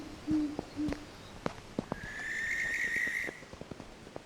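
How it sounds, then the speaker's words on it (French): An owl hoots at night over a hushed snowy forest, a few short low calls near the start followed by a longer, higher whistling call, with faint scattered clicks between and no voices. "peut-être un hibou au loin."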